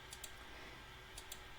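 Calculator buttons are pressed in two quick pairs of light clicks, faint against a steady hiss of room noise.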